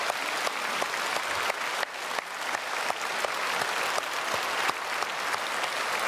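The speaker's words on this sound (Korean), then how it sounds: "우리 목사님께 박수로 축복하겠습니다" A church congregation applauds its pastor during a Sunday worship service, a dense and continuous round of clapping from many hands that holds steady and fairly loud for several seconds.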